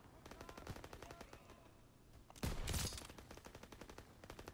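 Gunfire in the Call of Duty WW2 video game: rapid automatic bursts rattle continuously, with a louder, denser volley of blasts near the middle before the steady chatter resumes.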